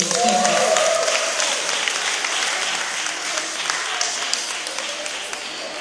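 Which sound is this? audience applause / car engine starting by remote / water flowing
audience applause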